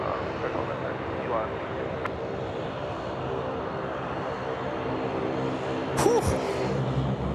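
A steady, broad roar from the engines of a Qantas Freight aircraft lining up on runway 34 left at Sydney Airport, constant and fairly loud, with a voice talking over it and a brief chirp near the end.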